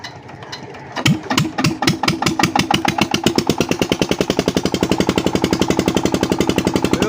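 Petter diesel engine driving a water pump starts up with a few slow, heavy chugs, then settles into a fast, loud, even thumping beat, close by, with no talk.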